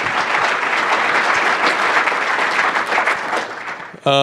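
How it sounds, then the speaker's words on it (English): A tech meetup audience applauds loudly and steadily for about four seconds, dense clapping filling the room before it cuts off abruptly at the end. "can we give a big round of applause to everyone that put this together today, Dave and their whole team."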